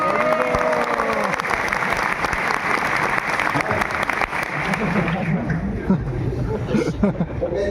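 Applause and crowd noise from an audience at a Hindu devotional discourse on Nityananda Trayodashi, sustained clapping throughout with some background murmur.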